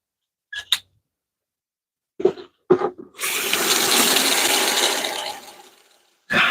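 Tap water runs in a strong, steady gush for about two seconds while a thirsty marigold is watered in a greenhouse. A few short clunks come first, the flow tapers off, and it resumes at the very end.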